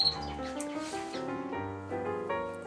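Birds chirping outdoors, a close run of clear, bright tonal calls and warbling notes that shift in pitch, continuing for a couple of seconds with no voices.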